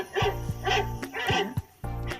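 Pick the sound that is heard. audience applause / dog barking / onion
dog barking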